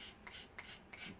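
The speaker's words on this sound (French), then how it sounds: "Il gratte super bien ce couteau" Knife spine scraping a Swissinno fire starter, three quick rasping strokes spaced evenly, close and fairly quiet with no talk.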